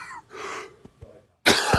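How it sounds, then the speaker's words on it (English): Several harsh coughs close by, a couple of short ones followed by a louder, sharper burst after a brief pause. "I got so much coughing"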